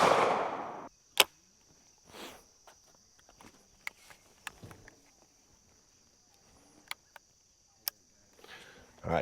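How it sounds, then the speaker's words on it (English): A Savage Model 42 fires American Tactical 2.5-inch .410 target loads at an outdoor range, heard as sharp, abrupt cracks separated by quiet gaps, with brief talk in between. "And now we have 410 firing"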